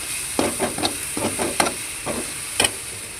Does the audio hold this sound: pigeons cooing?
no